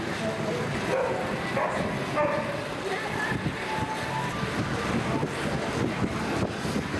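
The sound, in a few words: cold wind blowing from an assault bike fan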